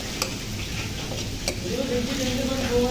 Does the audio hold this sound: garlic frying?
yes